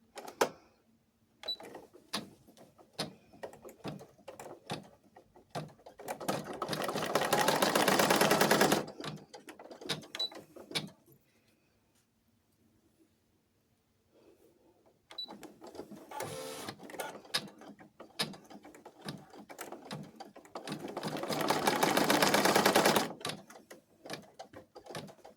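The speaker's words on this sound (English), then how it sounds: "I'm going to stitch down the tack stitch" A sewing machine stitches down a tack stitch on a cloth doll, running in two long loud bursts of rapid, steady needle chatter with quieter pauses and scattered handling clicks between them.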